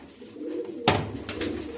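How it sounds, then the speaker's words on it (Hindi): Punjabi pigeons kept in a large low-flyer loft coo in a low murmur, broken by a sharp rustle or flap that is followed by a few brighter bursts. "ये देखो ये सारे पंजाबी कबूतर"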